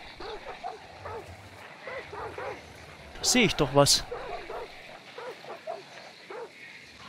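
Dogs in the video game Hunt: Showdown bark and yip in a brief loud burst midway, set against an ambient backdrop of water and under ongoing conversational talk.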